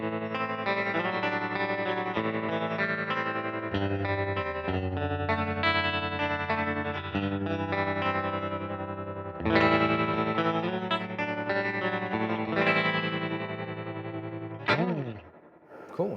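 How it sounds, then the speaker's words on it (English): A small Fender guitar amp plays continuous chords with its tremolo speed turned all the way up to 10, a fast pulsing wobble over sustained notes, loud and steady throughout before a brief dip near the end. "Cool, it's a nice sounding tremolo on there."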